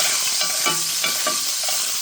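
Seasoning crackles and pops in a hot pan as it is stirred, a dense steady sizzle with scraping strokes of a utensil and sharper pops, close and fairly loud, no voices.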